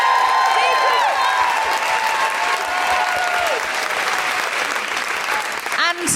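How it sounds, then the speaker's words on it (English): A live audience at a talk show on sex worker rights gives sustained applause, loud and continuous throughout, with a few whoops and cheers rising over the clapping. "Can I have a really huge round of applause"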